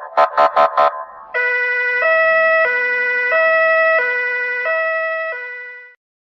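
Cartoon police car siren: a brief rapid warble burst, then a steady two-tone wail alternating high and low about every second, loud and alone with no talk.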